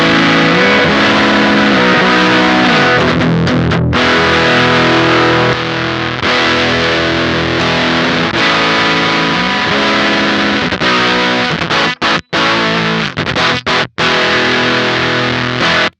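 A Cat Box Customs Bean Machine fuzz pedal with its texture toggle in the up position, driving a guitar into a loud, continuous sputtery distorted tone, with a few abrupt brief cutouts near the end.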